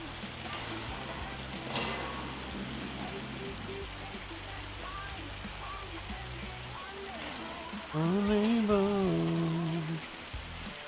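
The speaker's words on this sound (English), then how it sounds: "This rain needs to go away though." Steady rain patters across a game world in a flight simulator, a constant wash of drops throughout, with a brief tonal voice or hum rising over it near the end.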